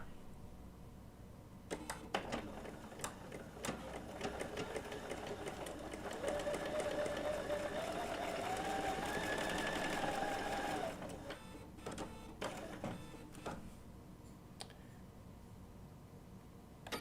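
A Bernina B790 PRO sewing machine with an open-toe foot stitches wool applique in several short bursts and one longer steady run, with clicks and thumps between.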